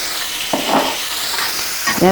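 Small prawns frying with onion in a hot pan, a loud steady sizzle running throughout with a couple of stirring scrapes, close and without talk.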